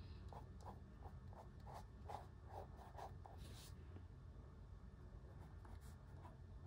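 Pencil drawing in a sketchbook: soft, close scratchy strokes in quick rhythmic bursts, then lighter scattered scribbles, quiet with no talk.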